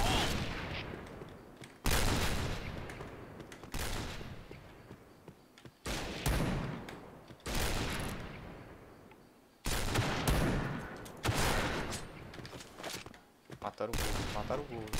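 An automatic sniper rifle fires in the shooter game Point Blank in loud, close bursts of shots, each followed by a long decaying echo, repeating roughly every two seconds.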